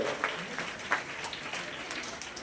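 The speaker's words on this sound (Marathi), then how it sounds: "आपण जोरात टाळ्या वाजून या सर्व मान्यवरांचं स्वागत करूया" At a birthday event, a crowd applauds dignitaries with sustained, moderately distant clapping that runs steadily throughout without speech over it.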